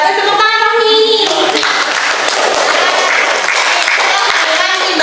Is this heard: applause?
yes